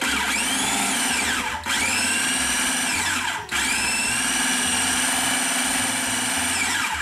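Blender whirs loudly as it purées avocado with hot pepper, a steady high motor whine with two brief dips where the pitch sags and recovers, close and continuous without speech.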